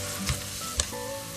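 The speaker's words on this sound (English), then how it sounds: "So let's saute our garlic for about 30 seconds." Pressed garlic sautéing in oil in a pan for vegan pasta, a soft steady sizzle with a couple of brief utensil knocks, close and quiet.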